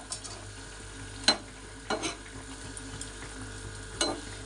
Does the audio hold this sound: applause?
no